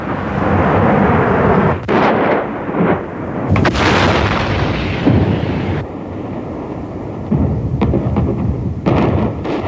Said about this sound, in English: The artillery and tanks that had encircled the city aimed their fire at specific buildings thought to be centers of PLO defense, communications, and operations.